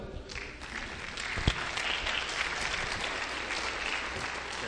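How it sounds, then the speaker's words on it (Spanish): An audience applauds steadily at a UFO congress as speaker Dante Ríos from Cusco is welcomed, a broad wash of clapping from a crowd, fairly close and continuous with no talk over it. "al hermano Dante Ríos de Cusco, con un aplauso."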